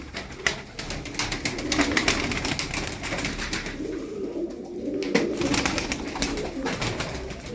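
Tumbler pigeons coo in a busy flock, soft throaty calls overlapping steadily with wingbeats and rustling nearby.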